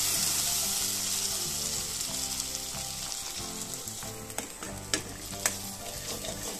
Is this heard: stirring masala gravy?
yes